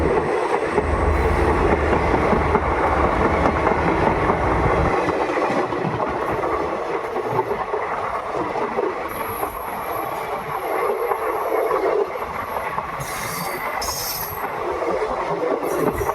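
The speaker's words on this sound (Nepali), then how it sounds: "अब ट्रेन आउँदैछ है" A train passes by steadily at close range, with a loud continuous rumble of wagons and wheels on the rails, squealing and clattering, and no talk over it.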